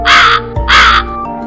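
Two loud, harsh crow caws sound close up, each about a third of a second long, over soft background music in an animated children's story about a thirsty crow.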